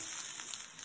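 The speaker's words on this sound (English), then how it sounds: "So here we are with our pepper, and it's sizzling nicely." Red pepper sizzling steadily in a hot frying pan, a close, bright crackle with no voices over it.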